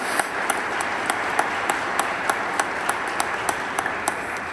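A church congregation applauds during Mass, producing a steady, reverberant wash of clapping with regular sharper claps standing out against the sustained sound.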